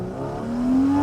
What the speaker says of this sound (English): Let's open the car up and see what it's got on a straight line.